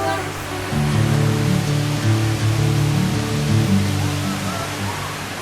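The Curug Sikarim waterfall roars in a broad, continuous wash of falling water, loud and steady throughout, with soft music-like tones underneath.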